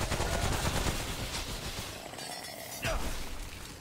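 Gunfire in the video game Subject 2923, with rapid cracking shots in close bursts, a brief lull, then another sharp volley against a noisy battle background.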